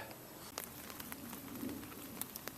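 Rain falling in the woods onto a wool poncho shelter, a faint steady patter with scattered sharper drip taps on the fabric and no voices.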